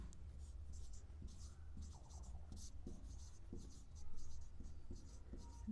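Marker or chalk writing on a board, soft scratchy strokes in short irregular bursts, close and quiet over a steady low background hum, with a voice speaking faintly at times.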